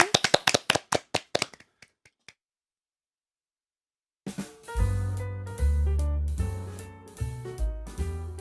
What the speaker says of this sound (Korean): 오늘 박수 힘차게 치면서 이 시간 마무리하겠습니다